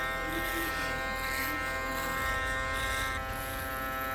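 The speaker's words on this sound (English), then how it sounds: "This is a Stylecraft Instinct shaver, by the way. This is my favorite shaver right now. The motor runs pretty fast" A Stylecraft Instinct electric shaver buzzes continuously at close range during a head shave, a steady high-pitched motor hum running under a voice talking.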